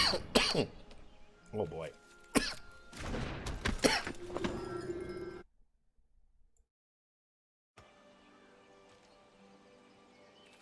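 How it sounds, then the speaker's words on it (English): A person coughs and clears their throat several times up close, with brief speech mixed in, before the sound cuts out to silence and faint background returns. "I muted myself because I was coughing."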